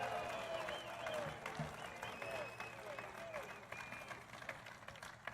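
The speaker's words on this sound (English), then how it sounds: "they're shouting, Lou. They're not booing" A large crowd at a Donald Trump rally in Old Forge, Pennsylvania, cheering and calling out the name "Lou" in drawn-out chants, a sustained roar of voices with clapping, fairly loud and close.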